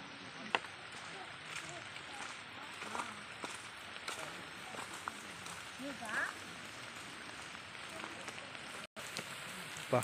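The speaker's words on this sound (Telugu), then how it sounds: "వర్షం జోరుగా కురుస్తుంది." Heavy rain falls steadily on the hillside trail near Bayyaram waterfalls in Mahabubabad district, a dense continuous hiss with scattered drop impacts and a few brief louder bumps.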